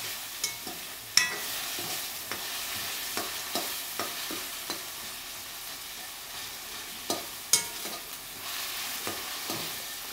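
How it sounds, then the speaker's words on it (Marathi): Tomatoes and onion sauté in oil in a pan for prawn masala fry cooked over a wood-fired stove, a steady soft sizzle broken by repeated sharp scrapes and knocks of a stirring spoon, close and with no talking. "परतून घ्यायचं तेलात."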